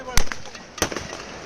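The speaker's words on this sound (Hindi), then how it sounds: "ये देखो भाई फायरिंग" Gunfire during a riot at a temple in Nuh, Haryana: two sharp, distant cracks about half a second apart, each trailing a short rattle, heard under nearby talk.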